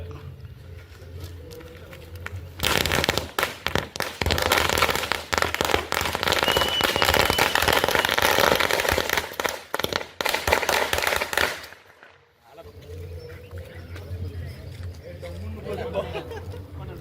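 Firecrackers bursting in a long, dense crackling volley at a political party celebration outside a government bus depot in Tamil Nadu, loud and continuous for about nine seconds before cutting off, with a newsreader's voice before and after.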